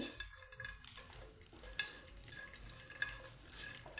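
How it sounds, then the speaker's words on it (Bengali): Raisins lightly frying in a pan for amla laddu give a soft, steady sizzle with occasional stirring scrapes, fairly quiet and close, with no talking. "তো কিশমিশগুলো আমি একইভাবে একটু হালকা করে ভেজে নেব"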